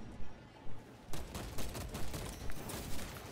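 Bursts of video-game gunfire from Warhammer 40,000: Space Marine II, a rapid series of loud, evenly spaced shots that thicken into a dense barrage after the first second, with no talking over it.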